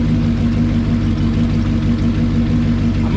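Lincoln Continental 462 V8 idling after a valve tick repair, a loud, steady, even low hum with a smooth mechanical whir, close and alone without voices.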